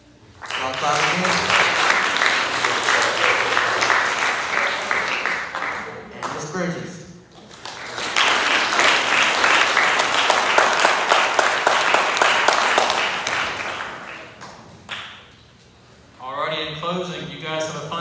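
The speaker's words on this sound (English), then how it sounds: "Y'all clap again." Two bursts of loud, dense audience applause in a school setting, each lasting several seconds and separated by a short lull. A voice comes in briefly between the bursts and at the end.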